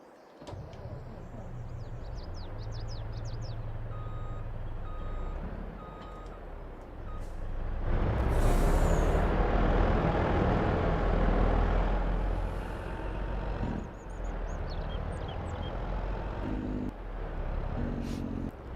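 Heavy trucks in Farming Simulator 22 give off a steady rumble, with a burst of air-brake hiss around the middle and faint repeated reversing beeps early on. Soft ambient bird-like chirps and a voice run underneath.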